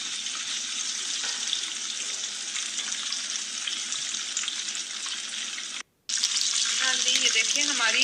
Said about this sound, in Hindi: हमारी फिश बहुत अच्छे तरीके से फ्राई हो गई है